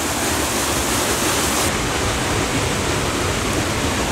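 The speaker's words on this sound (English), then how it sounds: "releasing that much water into this crystal clear," Spring water gushes from a water wheel house into a clear creek in the Ocala National Forest, a steady, loud rushing wash that holds constant from start to finish.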